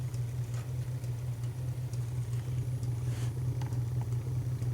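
A steady low hum and whir from the spinning wheel of a Bedini SSG energizer motor, continuous and even, with faint ticks and clicks scattered over it.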